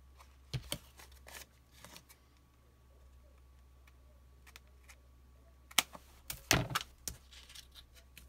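Scissors trim paper for a handmade photo folio album, a few quiet isolated snips and rustles with a busier cluster of sharp cuts and paper handling toward the end, close and soft.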